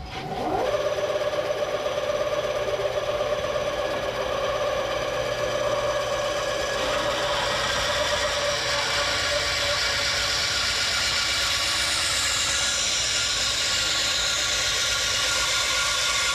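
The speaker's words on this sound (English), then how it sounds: "But right now, we're going to take it over to the bandsaw." A bandsaw cuts a wedge slot down the middle of an axe top, running as a steady, loud mechanical whine and hum throughout with no talking.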